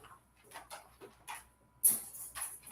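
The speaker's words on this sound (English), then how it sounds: "Please stop barking at nothing." A dog gives a few soft, muffled barks and whimpers at moderate distance, in scattered bursts, followed by a sharper louder yelp-like burst and some rustling.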